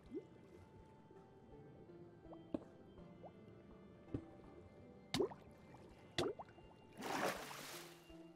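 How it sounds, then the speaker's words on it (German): Water flows and trickles in the Minecraft video game, with scattered drips and small splashes building to a louder, rushing gush near the end, heard fairly close and without talking. "So, wieso kommt da jetzt Wasser rein?"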